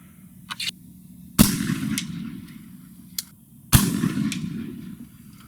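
Two loud, sharp shots from an 1853 Enfield black powder rifle, each a sudden booming crack with a rumbling tail, a couple of seconds apart, with faint clicks and handling noise in between.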